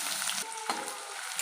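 Chopped onions frying in hot mustard oil with a dry chilli, cinnamon and cardamom tempering, for a yogurt chicken curry; a steady close sizzle that dips briefly as the onions drop in, then resumes alone.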